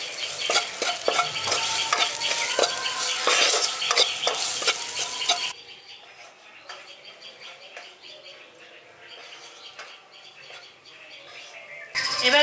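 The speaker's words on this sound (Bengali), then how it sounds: "এবার এগুলো একটু ভাজা ভাজা করে নিচ্ছি" Ground turmeric, coriander and cumin fry in a pan for brinjal bharta, with busy scraping stirs over a bright sizzle that drops to a softer fry midway.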